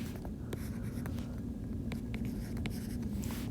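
Numbers are written onto a board in a column, heard as short, faint tapping and scratching strokes in irregular clusters over a steady low room hum, with no talk.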